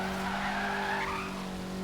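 Tyres skidding on an AWD-converted Honda Civic Type R in Forza Horizon 3: a steady, loud tyre squeal layered over a droning engine, continuous without a break.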